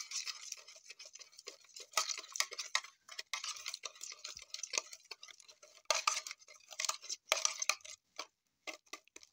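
Egg, butter and ground powdered sugar mixed by hand in a bowl for a coffee flour cake, with steady clinking scrapes and ticks of a utensil against the bowl, close and moderately loud, no voices.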